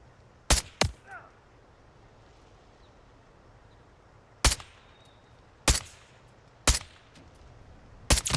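Several sharp, loud sniper rifle gunshots from Call of Duty: Modern Warfare 3 (2023) ring out singly at irregular intervals, each with a brief echoing tail, over a quiet background hiss.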